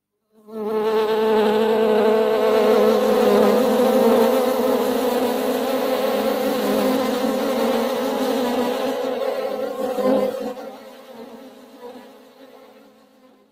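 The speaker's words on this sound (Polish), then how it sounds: "Posłuchajmy pszczoły." Bees buzzing steadily in a played recording, a dense, loud drone holding for about ten seconds before fading out.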